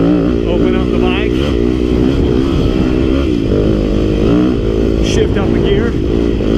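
A Yamaha YZ250FX dirt bike revs hard and climbs through the gears on a desert trail, its loud, close engine note rising and dipping in pitch throughout, with a rider's voice talking over the roar.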